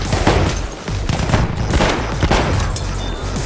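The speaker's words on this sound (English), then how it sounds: "this shotgun, why have I never used this before?" Shotgun fire in Battlefield 1 rings out amid dense, continuous battlefield gunfire, with several loud, overlapping blasts close up against a constant wash of distant shooting.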